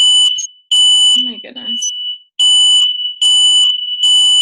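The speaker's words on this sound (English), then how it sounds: "Our fire alarm has been going off all afternoon." A household fire alarm sounds loud and close, giving repeated shrill electronic beeping bursts with short gaps, while someone briefly exclaims in between.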